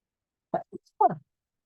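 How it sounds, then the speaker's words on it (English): A single short, soft sneeze from one person in a quiet room, made up of a couple of quick bursts and then a brief voiced release, with nothing else audible. "I'm going to sneeze again."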